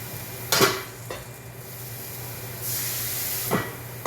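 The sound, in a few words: water hissing in a hot pan to steam a bun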